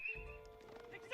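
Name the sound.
horses neighing and hoofbeats in a video game (Age of Empires)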